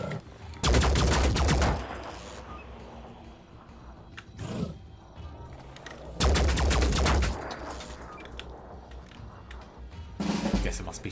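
Gunfire in the turn-based tactics game Phoenix Point: Terror from the Void, coming in loud broadband bursts near 1 s, 6.5 s and 10.5 s, with lower mechanical clatter and rumble between the volleys.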